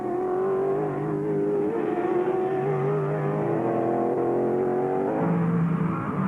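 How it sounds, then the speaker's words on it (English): Touring race cars on the main straight at Calder Park during the 1995 Peter Brock Classic, engines droning loud and continuous at high revs with shifting pitch as the cars run close together. "Wayne Gardner now comes back onto the main straight. He's got Peter Brock sitting right up behind him."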